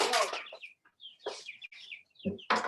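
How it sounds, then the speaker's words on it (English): Young chickens kept in a garage cluck and cheep in short, scattered bursts, some sharp and close, others softer, with brief quiet gaps between calls. "We've got some chickens here hanging out in our garage until it gets a little warmer and they get a little bigger."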